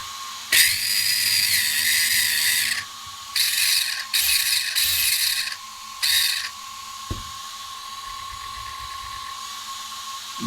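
A Genius GTC8E 2025 RC car with overtightened gear mesh gives about five sharp, loud bursts of high-pitched gear grinding and whirring, some long and some short, over a steady fan hum.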